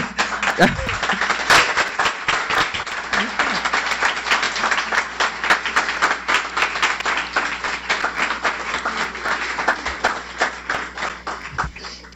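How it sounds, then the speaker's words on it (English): Audience at a guide dog school graduation applauding volunteers, a continuous round of many hands clapping, loud and steady throughout with faint talk underneath near the start. "please stand up so we can give you a big round of applause"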